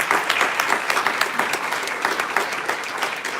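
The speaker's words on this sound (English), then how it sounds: "give a very big round of applause to all the kids and Sister Tripura." Loud, sustained applause from a large group after a children's performance, many hands clapping densely with a few sharper claps standing out, close and continuous.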